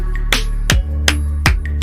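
Five sharp snaps of a belt at a steady pace over a low hum, each a crisp broadband crack that decays quickly, like a leather belt being snapped taut.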